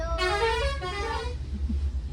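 Car horns blare in a jammed traffic queue on a road in Nepal: one long, loud, steady honk, then a couple of short toots over a constant low engine rumble.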